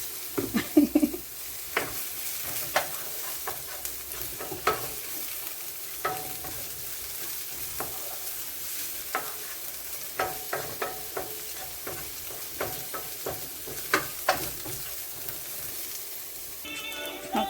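Garlic and seasoning sautéing in coconut oil in a pan, a steady soft sizzle broken by repeated clinks and scrapes of stirring, close and moderately loud with no talking.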